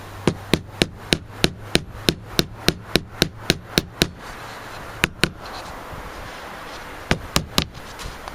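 A rapid, steady series of sharp hammer strikes on wood while building a radio cabinet, close and loud, slowing to a few scattered blows near the end.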